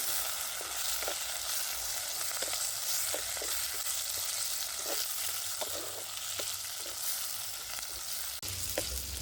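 Cumin, mustard seeds, garlic and onion frying in oil for drumstick curry in a village kitchen, a steady close hiss with periodic soft stirring scrapes and no talk.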